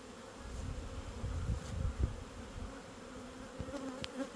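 Many bees flying around beehives, a dense, continuous buzzing drone close by with individual insects passing near, no talking.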